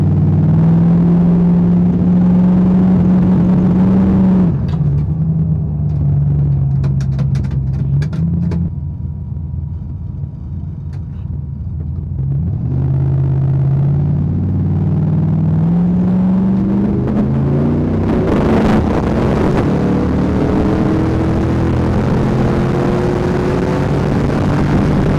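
A turbocharged Mustang on drag slicks at a drag strip: a loud engine drones steadily, pauses while the car rolls and backs up, then builds in pitch and roars as it launches, close and sustained throughout.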